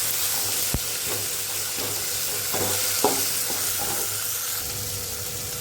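Onions and spices for a kola fish curry sauté in a pot with a steady sizzle, broken by a few sharp clinks and scraping stirs of a spoon against the metal.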